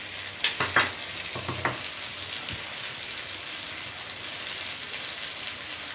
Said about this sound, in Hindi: ये सेब जो हैं ये अच्छे से थोड़े गोल्डन फ्राई हो चुके हैं